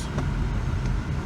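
A Ford Taurus with a short-circuit fault idles steadily up close, a constant low engine rumble running unbroken as it is shifted through reverse, neutral, drive and back to park.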